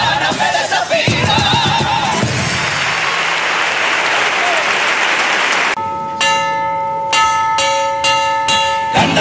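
Loud applause from a carnival crowd at a Cádiz comparsa stage performance gives way to several clear, ringing bell strikes played on stage, struck in an irregular rhythm.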